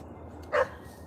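One short, muffled dog bark from a bit of a distance, standing alone against a low, steady background hum.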